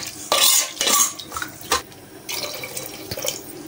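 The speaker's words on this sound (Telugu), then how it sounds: "మొత్తం ఒకసారి కలిపేసుకోవాలి." A utensil scrapes and clinks against a pot as a tamarind broth for dry fish curry is mixed, giving several quick, close strokes with a liquid slosh.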